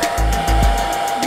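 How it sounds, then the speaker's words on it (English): A handheld hair dryer blows hot air onto a cracked egg in a kitchen myth test, a loud steady whirring roar with shifting pitch as it moves, while people talk over it. "apparently you can fry an egg using a hairdryer"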